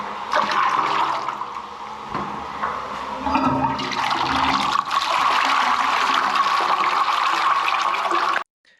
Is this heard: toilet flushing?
yes